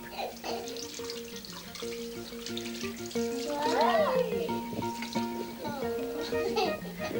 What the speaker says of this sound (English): washing their hands with soap